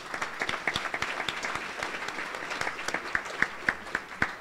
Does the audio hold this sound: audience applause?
yes